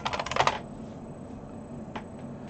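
A computer keyboard clatters in a quick burst of close keystrokes for about half a second as a search is typed, followed by a single later tap over a quiet room background.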